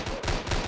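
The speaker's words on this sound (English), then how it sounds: "Let's just shoot these zombies in the head." Gunfire aimed at zombies in a Roblox game: a rapid, loud run of close shots fired in quick succession.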